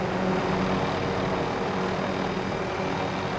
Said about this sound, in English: it's contraband, helicopter leaving